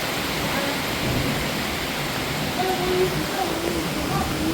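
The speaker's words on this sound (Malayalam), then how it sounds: "അവനെ മാറി ഇടി വെട്ടുന്നുണ്ട് മാറി" Thunder rolls through steady heavy rain during a fishing trip, a continuous dense downpour with low rumbling underneath, loud and close throughout.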